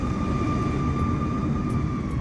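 A jet airliner taxiing on a Japanese airport in Microsoft Flight Simulator gives off a steady, loud engine roar with a sustained whine on top, and no talk is heard.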